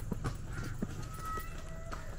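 Hooves clip-clop on a hard surface in a quick uneven rhythm, fairly close, with faint background noise.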